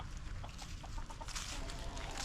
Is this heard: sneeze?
no